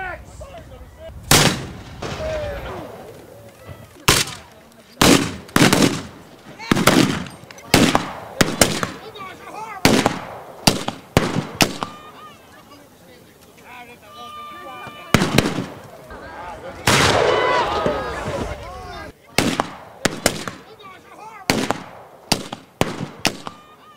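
Pirate show cannons firing at the Florida Renaissance Fair during Pirates Weekend, a long run of loud, sharp booms and cracks in rapid, uneven succession with echoes, while performers shout over the blasts.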